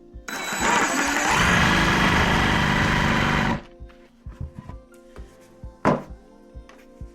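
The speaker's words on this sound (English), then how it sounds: "Push the saw blade to touch the wood." A power saw runs through soft wood, a loud, steady, harsh buzzing cut that lasts about three seconds, then stops abruptly, followed by scattered light knocks and clatter of wood and tools.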